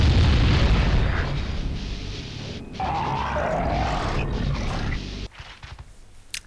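A large explosion in a Spider-Man video game, a loud sustained boom rumbling and crackling for about five seconds before cutting off sharply to quieter game ambience.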